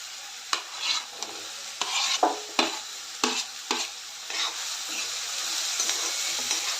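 Finely chopped snake gourd and onion sautéed in a pan with turmeric, stirred with a series of sharp scraping spatula strokes over a soft, continuous sizzle, close and without voices.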